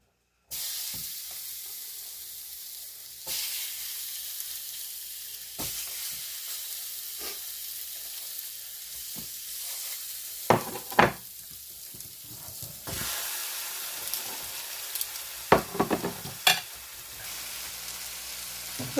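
Chicken pieces sizzle steadily on a hot George Foreman grill, a continuous close frying hiss broken by sharp clicks, taps and spatter bursts as the meat is placed and moved.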